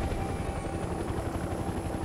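A helicopter in a war-zone video game drones steadily and loudly with a continuous rotor thrum and high whine, unbroken throughout.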